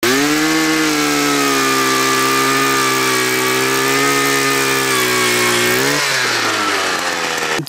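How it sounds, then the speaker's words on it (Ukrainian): A petrol-powered ice auger drills holes through ice with a loud, steady buzzing engine drone. The pitch holds firm, then drops sharply as the engine winds down near the end, with no voices. "Це бензобур, спеціально зроблений для сверління льда."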